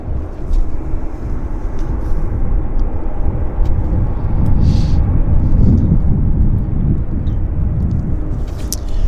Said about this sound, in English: we've got this WestJet 737-1599 inbound from Montreal, inbound from Atlanta right now